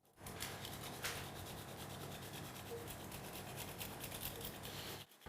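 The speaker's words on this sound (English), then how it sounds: "Finally, grate a bit of fresh Parmesan on top." Fresh Parmesan cheese is grated by hand, giving a close, quiet, continuous rasping scrape that lasts about five seconds with no talking.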